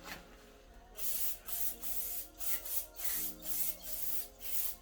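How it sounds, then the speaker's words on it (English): Several short bursts of aerosol spray onto the back side of a Kia Sportage AWD front brake rotor, close and hissing, coming in an uneven rhythm with brief pauses between them. "before I do that, I spray it on the back side"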